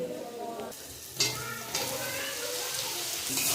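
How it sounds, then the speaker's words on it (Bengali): Spice paste frying in oil for mocha chingri, a continuous close sizzle with stirring scrapes and small surges as the paste is worked in the pan, no voices. "মশলার মধ্যে বেশ কিছুক্ষণ মশলা সুন্দর করে কষিয়ে নিচ্ছি"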